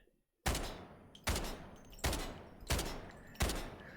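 Five single gunshots from a rifle loaded with M61 7.62x51mm ammunition in the video game Delta Force Hawk Ops ring out one at a time, each a loud sharp crack with a short decaying tail, spaced under a second apart after brief silence.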